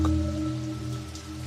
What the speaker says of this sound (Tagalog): kahit malakas na ang hangin, kahit bumubuhos na ang ulan sa labas,